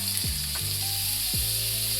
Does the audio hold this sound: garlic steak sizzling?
yes